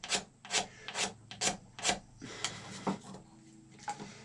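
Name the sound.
blade scraping a powder horn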